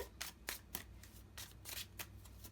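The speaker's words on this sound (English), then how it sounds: "let's pull another card here" Tarot cards riffle and slide against each other as one is drawn from the deck, a series of soft, quick papery swishes close by with quiet pauses between.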